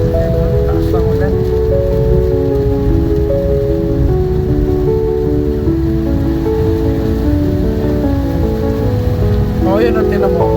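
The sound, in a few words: heavy rain heard while driving back to Manila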